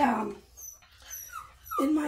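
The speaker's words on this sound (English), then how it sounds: "Oh, stop whining, puppy." A puppy whines and whimpers in short, high, rising cries close by in a home, with a brief faint whimper between two louder whines and a person talking over part of it.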